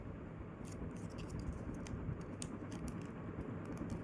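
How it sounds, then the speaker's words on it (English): Paper being folded and creased for a Hyper Phoenix Omega paper jet airplane, heard as close, dense crinkling and scraping with small sharp creasing clicks over a steady rustling bed, with no talking. "So we're gonna fold this down. Fold this down. And fold this."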